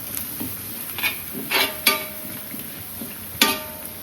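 Food seasoned with plenty of black pepper being stirred in a pan, heard as a few scraping and clinking strokes spread across the clip with a faint sizzle underneath.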